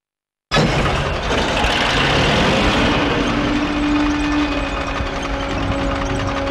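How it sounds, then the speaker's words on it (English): A Soviet T-34 tank engine in Call of Duty: Finest Hour kicks in abruptly and keeps up a loud, dense, rough roar, with a faint whine rising partway through. "But our tank soon had engine trouble, and the smoke plume was giving away our position."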